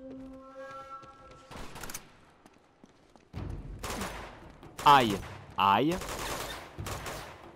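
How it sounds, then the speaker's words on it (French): Bursts of gunfire from the Uncharted video game, several rapid volleys and sharp shots in clusters, loud and close, with a short spoken exclamation among them. "Qui me tire dessus?"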